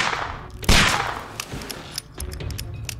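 Gunshots in Sherlock Holmes The Devil's Daughter: one loud sharp shot followed by a scatter of lighter cracks and snaps over a low ambient rumble, close and intermittent.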